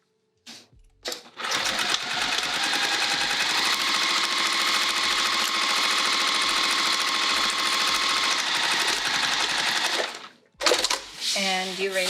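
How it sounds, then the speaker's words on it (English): A sewing machine stitches a seam across a vinyl bag panel, running in one long steady burst for about nine seconds, close and loud, then stopping, with a short clatter afterward. "And let's sew it down."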